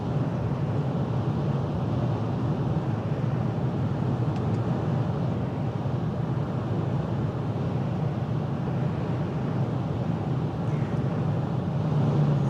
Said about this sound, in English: The only thing I'm hearing really is wind noise.